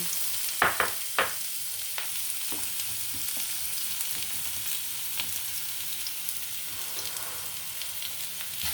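White onions hit hot pan oil left from frying potatoes and sizzle steadily and loudly, with a few sharp clinks of a utensil stirring near the start.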